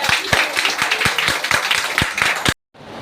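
Dense audience clapping at a morning talk, steady and loud with sharp individual claps punctuating it, then cutting off abruptly near the end.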